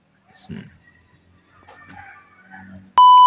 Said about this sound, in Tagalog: Ito guys yung nag-iisa kong manok.